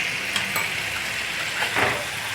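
Mutton and garlic sizzle steadily on a hot tawa, a soft continuous frying hiss with a few faint scrapes of stirring.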